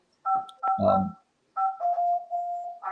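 Telephone keypad tones beep in a few short bursts and one longer steady tone, clear and fairly loud against near silence.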